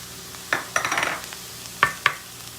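Onions and minced ginger sizzle softly in a pan while a utensil stirs and scrapes in short bursts, with a few sharp clicks against the pan close by.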